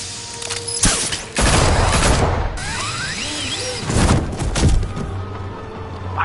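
Gunfire in the video game Batman: The Enemy Within, with bursts of automatic fire and loud thuds breaking out in several volleys amid sweeping whooshes and tonal game sounds, loud and close.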